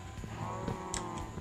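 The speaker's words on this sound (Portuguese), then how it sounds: "Vamos pegar aqui essas vacas, elas enchem um pouco a paciência." Cows moo in Minecraft, a drawn-out low lowing call rising over soft ambient game sound, close and moderately quiet with no talking.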